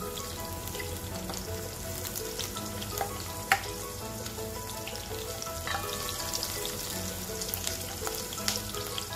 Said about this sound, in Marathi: बटाटे वड्यासाठी आपण भाजी करून घेऊ, परतून घेऊ थोडी बटाट्याच्या